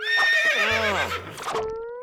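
A cartoon character imitates a horse's neigh, a loud, wavering whinny that rises then falls over about two seconds, sounding alone without other talk.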